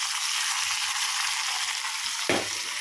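Washed curry leaves go into hot tempering oil for chukka kura pappu, a steady loud sizzle that flares into a sharp burst near the end as the leaves hit the oil.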